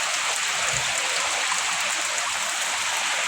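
Rain from typhoon Basyang falls as a constant, loud hiss of water, steady and unbroken throughout, with a faint low thump early on and no talking.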